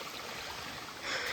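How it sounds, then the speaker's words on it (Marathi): A loud waterfall roars steadily along a jungle trek in Adrai forest after heavy rain, a dense continuous rush of water that swells a little louder toward the end. "हे धबधबा आहे, आवाज येते खूप"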